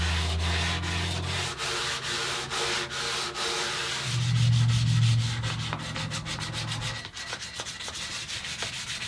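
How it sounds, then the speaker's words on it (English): Rhythmic rasping strokes of sandpaper rubbing the wooden body of an acoustic guitar under construction, repeating steadily with a low motor hum rising and falling underneath, close and continuous. "then I'll resume my sanding process"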